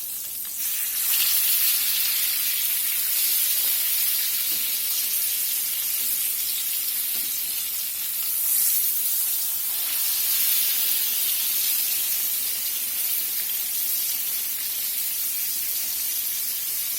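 Pork chops fry in a pan just after being turned, giving a loud, steady sizzle and hiss that holds for the whole stretch with no talk over it.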